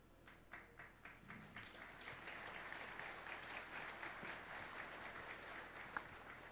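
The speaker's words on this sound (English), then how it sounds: "Draw an applause" An audience claps, building quickly into a sustained round of applause heard from a distance in a large conference hall.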